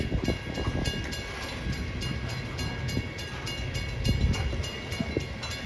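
A BNSF freight train with DPU locomotives rolls past outdoors, a steady loud rumble of rail cars with rhythmic clicking and a faint high whine throughout.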